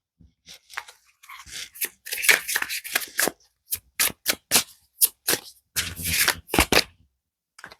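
Tarot cards being shuffled by hand in quick crisp riffles and slaps, a run of short sharp bursts with brief gaps, close and clear with no talking.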